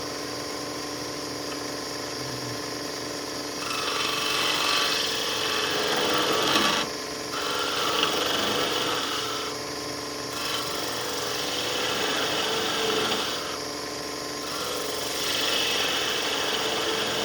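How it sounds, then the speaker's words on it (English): A wood lathe turning a wooden sphere: a continuous loud whirring hum with scraping tool noise rising and falling in several passes as the cutter meets the spinning wood, no talking. "This is almost like an egg cup that I'm turning, or a chess piece."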